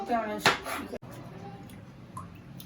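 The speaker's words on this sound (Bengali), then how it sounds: "আমার সালাদ কাটা হয়েছে" A knife chops cucumber and other salad vegetables on a board in a home kitchen, giving a couple of sharp thuds right after a woman's brief speech, then quiet rustling.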